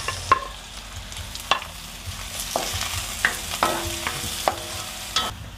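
Onion tossed into garlic sizzling in a pan for pork pata humba, a continuous fry with sharp scraping clacks of a utensil at irregular intervals.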